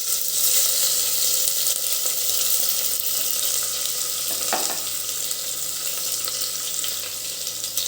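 Onion, tomato, potato and ginger-garlic paste fry in a pressure cooker with a steady, loud hiss and sizzle that holds throughout, with one brief stirring clink partway through.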